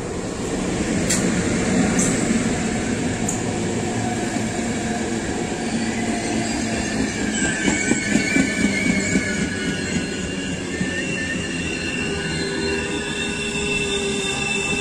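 Passing train on a Polish railway line: a loud, steady rumble of rolling cars with squealing wheels, heard close and continuous throughout, with no talking.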